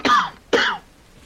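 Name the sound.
cough heard in the rain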